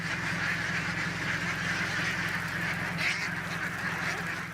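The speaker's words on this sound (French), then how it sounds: "L'éleveur arrive avec ses canards dans les rizières" A steady chorus of many ducks quacking continuously, moderately loud, in rice paddies, with a busy outdoor background and no talking.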